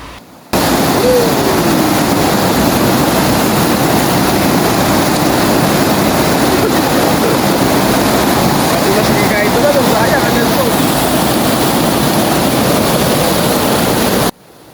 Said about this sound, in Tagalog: Ang lakas talaga ng agos eh. Pag nagkamali ka, tatangayin ka talaga.